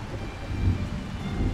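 A game thunderstorm outside a tavern gives a low, steady roar of rain and rumbling thunder, with no break or distinct crack across the short stretch.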